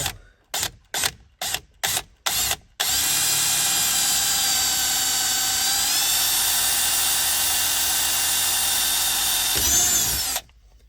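Several short bursts from a power drill, then one sustained high whine as a 3/16 inch bit bores a hole near the pedals of a Porsche Cayman S 987. The drill is close and loud and stops abruptly near the end.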